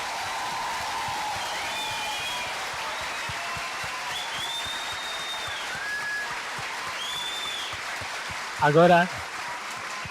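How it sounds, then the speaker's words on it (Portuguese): Congregation applause at a Pentecost Sunday homily in a Catholic church, a long steady wash of many hands clapping, with a brief spoken word from a man near the end over the clapping. "Pode bater palmas, você que merece."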